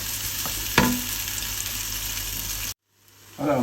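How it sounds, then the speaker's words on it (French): Onions and minced garlic sautéing gently in a saucepan for a bolognese ragù, a steady close sizzle with a stirring clatter near the start, then a brief silence before the frying resumes. "on a bien fait revenir nos oignons et notre ail"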